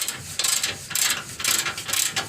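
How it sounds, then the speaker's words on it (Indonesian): A hand ratchet tightens the rear bolt on a Mitsubishi Pajero Sport during an engine oil change, giving four close, crisp bursts of rapid clicking with short pauses between strokes. "Yang belakang kita kencangkan."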